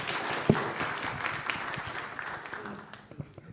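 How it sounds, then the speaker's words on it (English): Applause from a space symposium audience, steady and moderately loud, with a sharp clap near the start before it tapers off. "Big applause."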